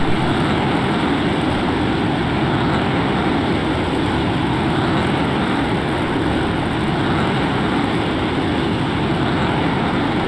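An F-15 fighter jet flying low through the Columbia and Snake River canyons makes a steady, loud, broadband engine roar that holds evenly for about ten seconds with no talking.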